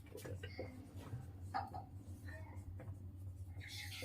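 Chalk or marker scratching across a classroom board in short strokes while a lecturer talks over it in Hindi, a steady low hum beneath.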